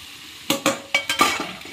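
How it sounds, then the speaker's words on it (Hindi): Chicken pieces cooking on a medium flame in a pan, with several sharp stirring scrapes and clinks over a steady, close sizzle. "चिकन ऐड कर लिया है. मीडियम फ्लेम में पकाएंगे अब चिकन को."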